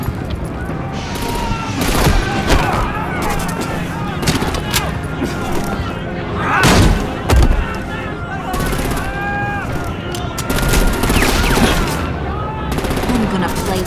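Dense gunfire and bursts of automatic weapons rattle through a Telltale Batman Season 2 fight, layered with shouting voices, a heavier boom near the middle and continuous game action throughout.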